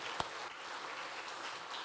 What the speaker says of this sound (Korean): 우리 부모님들을 향해서 한번 박수 한번 하실까요?